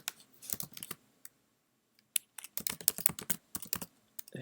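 Keys tapped on a computer keyboard while a comment is written, quick irregular bursts of clicks with short pauses between, close and clear, no talking.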